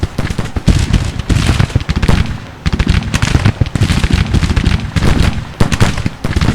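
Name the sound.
gunfire from troops in the video game Grand Tactician: The Civil War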